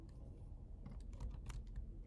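Rapid, quiet clicking of keys on a computer keyboard, irregular bursts of keystrokes over a couple of seconds with no talking.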